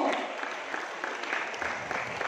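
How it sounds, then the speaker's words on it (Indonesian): A roomful of people clapping at a corporate business talk, a steady dense patter of applause lasting a couple of seconds at moderate distance. "Tepuk tangan dulu untuk Bapak Ibu"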